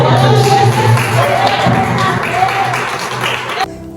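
A church congregation claps together during a Pentecostal-style sermon, a dense, loud crowd of hands beating near and steady with some cheering and voices mixed in, then cutting off abruptly near the end.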